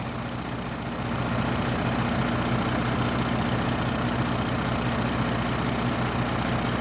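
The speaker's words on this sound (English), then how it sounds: "a shot of the motor running" A 2011 Mercedes E350 Bluetec engine idles steadily with a low, even rumble and faint knocking texture, continuous throughout and close by.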